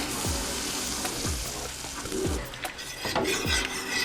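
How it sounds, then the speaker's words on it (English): A weight-loss tea is stirred in a pot on the stove, with four or five regular scraping strokes of a spoon against the metal over a soft, constant background hiss. "Let's stir that in there and watch the magic."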